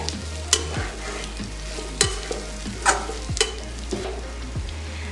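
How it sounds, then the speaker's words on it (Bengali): Crumbled fish stir-fried continuously over a high flame sizzles loudly, punctuated by regular scraping strokes of a spatula across the pan about once a second, close up with no talking. "আমি কিন্তু এখন অনবরত নাড়বো আর চুলার ফ্লেমটা কিন্তু হাই ফ্লেমে থাকবে"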